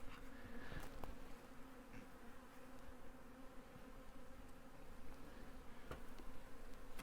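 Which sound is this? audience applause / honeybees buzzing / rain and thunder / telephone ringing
honeybees buzzing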